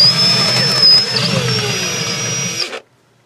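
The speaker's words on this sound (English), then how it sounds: "I got a 3/8 bit here, because it just so happens to be the largest bit I have in the house with me." A power drill with a 3/8-inch bit bores into plywood, a loud, steady whining motor with a high tone that runs for under three seconds, then cuts off abruptly into silence.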